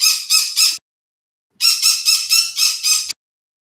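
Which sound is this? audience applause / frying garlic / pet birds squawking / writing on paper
pet birds squawking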